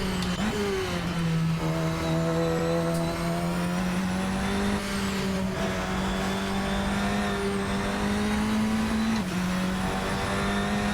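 A Radical SR10 XXR8 race car in Assetto Corsa drones at high revs with a steady engine tone that shifts slightly as the car accelerates and changes gear, loud and continuous with faint tire noise.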